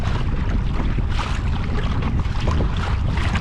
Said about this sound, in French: c'était pas forcément très agréable avec ce vent là